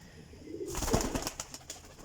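A caged golden teddy pigeon gives a short, close, low throaty coo that swells and fades within about two seconds, against faint background noise.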